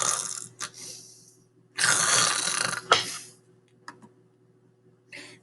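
A voice imitates a sleeping princess snoring loudly: a short snort, then a long rasping snore, followed by smaller snorts and breathy puffs in an otherwise quiet room.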